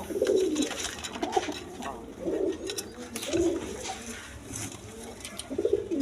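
Pigeons of various breeds at a seller's coo repeatedly in low, throaty bursts, close and fairly loud, with background bustle and some voices between the calls.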